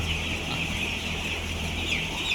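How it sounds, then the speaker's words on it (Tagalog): Grown chicks and chickens on a farm, steady clucking and high peeping in a continuous chorus, fairly loud and close. "Mga sisiw po natin, malaki na sila."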